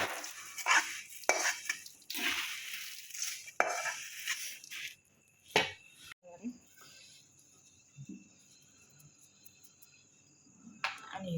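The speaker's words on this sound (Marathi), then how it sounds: "ही फोडणी आपण ह्याच्यामध्ये मिक्स करून घेणार आहे" Puffed rice chivda being mixed with tempering in a pan: repeated scraping and clinking stirs in bursts, loud at first, then sparser knocks with quiet gaps; insects chirp faintly in the background.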